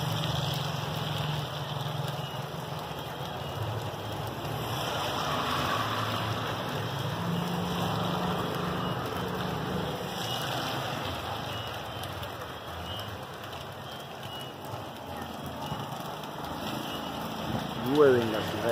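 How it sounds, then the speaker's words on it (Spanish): Heavy rain pours at night over Siloé in Cali, Colombia, making a dense, continuous hiss that stays loud and even throughout. "Fuerte lluvia acá en la variedad de Siloé"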